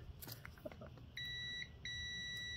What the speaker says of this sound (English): puts off a beeping sound when we do a continuity test.